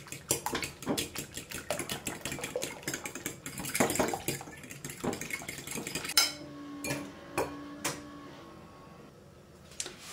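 Eggs being beaten in a bowl for a potato roll, a rapid run of whisk strokes clattering against the bowl that slows into a few sharper, separate clinks near the end, with no talk over it.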